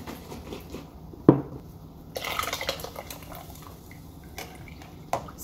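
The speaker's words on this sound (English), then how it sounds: "you can put water in the box, shake it, and dump in the rest" Water and leftover molasses sloshed and shaken inside a box, then poured out, giving brief wet splashes and drips, one sharp knock near the start and another near the end, fairly faint.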